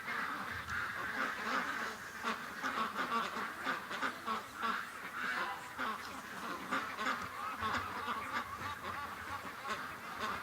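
A flock of ducks quacks loudly and continuously, many overlapping calls close by with some honking mixed in, growing in intensity throughout.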